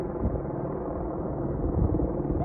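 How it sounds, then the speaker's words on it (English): A helicopter hovers close over a horse yard, its engine and rotors making a loud continuous low rumble that stays steady throughout. "That's why that helicopter's having to stay so close."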